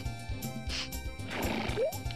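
A horse whinnies in Harvest Moon 64, one rising neigh near the end over hoof clip-clops and a looping background tune, fairly close and clear.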